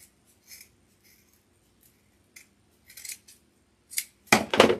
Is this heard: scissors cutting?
yes